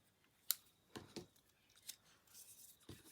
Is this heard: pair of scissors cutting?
yes